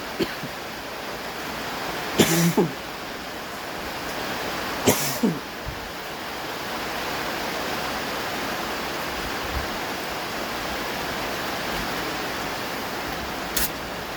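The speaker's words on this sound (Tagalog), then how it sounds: "Masyado ng ulan." Heavy storm rain pours steadily in Barangay Gallego during a typhoon with strong wind, a dense continuous hiss with a few brief sharp knocks or thuds near the start and a faint click near the end.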